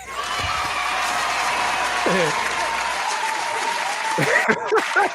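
Crowd applause with cheering and whoops at a DJ mixshow event, a steady roar of clapping under music and voices, with shouts and louder bursts toward the end.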